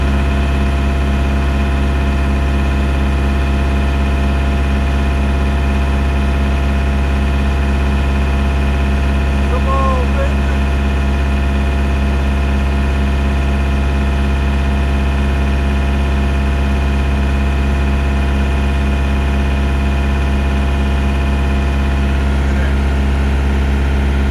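A semi truck's diesel engine idles steadily in a cab, a loud, constant low rumble with a faint steady tone above it, running alone for the whole stretch.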